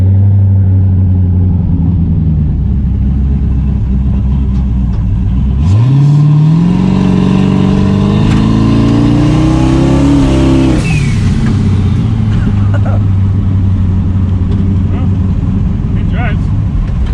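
A Chevrolet Camaro project car, running with no hood, idles with a deep rumble and then revs hard while driving, its engine note climbing loudly for several seconds before dropping back to a steady drone.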